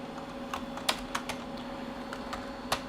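Keystrokes on a computer keyboard at a T2 Linux installation on an SGI Octane workstation, a sparse, irregular run of light clicks over a steady machine hum.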